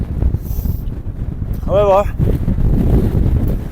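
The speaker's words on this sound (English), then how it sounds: "as you can probably hear even with the through mic, it's very windy." Strong wind buffets the microphone on the summit of the Merrick, the highest point in Dumfries and Galloway, a steady low roar running under a brief spoken word.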